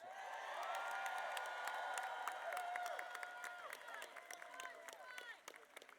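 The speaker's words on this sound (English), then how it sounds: "Give him another round of applause." Crowd applause with scattered cheers and whoops at a public rally in Tallahassee, steady clapping that thins out toward the end.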